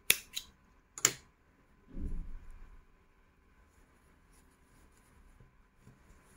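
Scissors snipping yarn on a crocheted floral shorts piece, two or three quick crisp cuts close by at the start, then a soft rustle and near quiet.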